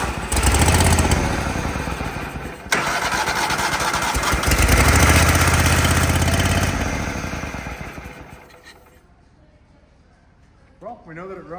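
A Toro Wheel Horse lawn tractor engine running loud and steady close by, then winding down and fading near the end, with a voice briefly heard after it quiets.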